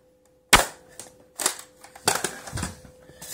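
Nerf darts are fired at a styrofoam target, giving a sharp snap followed by several softer pops and knocks in quick irregular succession, close and fairly quiet.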